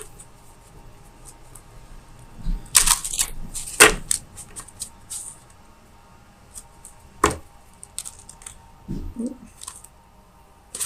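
Tarot cards being shuffled by hand, heard as a few short, close papery riffles and slaps, with quiet handling noise between them and a soft murmur near the end.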